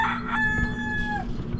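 A rooster crows loudly at very close range in a rural jungle province of the Philippines, one sustained call with a rising then falling tone, heard on its own.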